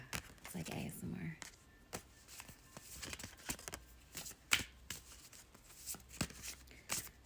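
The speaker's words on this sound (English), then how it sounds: "Do you like the sound of the cards shuffling?" Tarot cards are shuffled by hand in a quick series of crisp riffles and soft slaps, close and fairly quiet, with faint murmuring voice under them.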